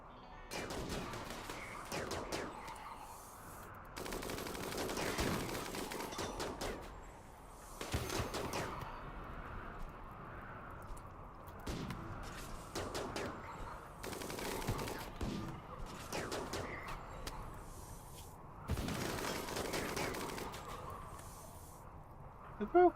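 Rimworld gunfire crackles in repeated bursts and volleys across the colony battle, with voices under the shots.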